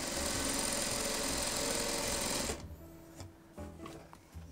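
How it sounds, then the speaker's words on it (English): Sewing machine stitching a quilt column, a steady loud mechanical whir running continuously before cutting off abruptly, followed by quieter handling clatter and fabric noises. "Okay, then we're going to sew this last column on."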